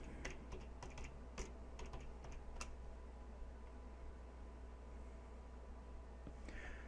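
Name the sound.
typing start.bat on computer keyboard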